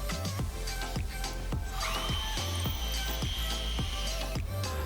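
A power drill with a slightly larger bit bores through the top of a shelf, its steady whine held close and continuous, with repeated rhythmic knocks and a higher rising tone midway.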